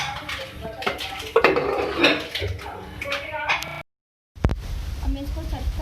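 Pot and spoon clatter while potato curry (aloo ka salan) with chopped coriander is mixed and served, a run of close metallic clinks and scrapes with someone speaking over them, a brief silence, then more clanking.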